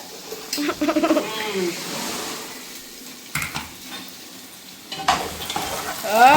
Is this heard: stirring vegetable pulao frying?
yes